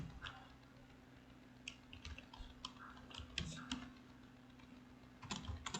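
HTML code typed on a computer keyboard, heard as sparse, soft keystrokes and clicks that come in small clusters, quiet over a steady low hum.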